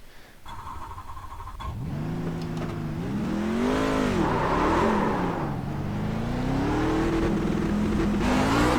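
Race truck engine from iRacing's C Trucks at Texas Motor Speedway, revving loudly and steadily through a qualifying lap, its pitch rising and falling with gear changes and throttle, a continuous close roar with no talk over it.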